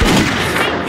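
A single loud gunshot from the western game Grizzly Gulch, a close, booming blast filling the short moment.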